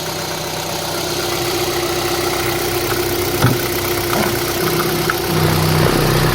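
A Kia Forte LPi 1.6-litre LPG car engine with 140,000 km idles steadily in cold winter weather with a constant low hum and vibration, running slightly fast, with a faint rise in pitch near the end.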